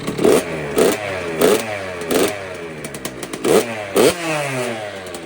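A rebuilt Kawasaki KX65 dirt bike engine with a big bore kit idles with a rough, uneven putter, its pitch bobbing up and down in regular pulses close by.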